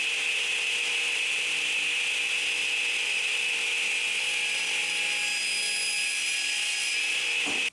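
A power saw, likely a table saw fence setup, cuts wooden table legs to length for a sewing machine table, a loud steady high-pitched whine with rasping blade noise running continuously before cutting off abruptly.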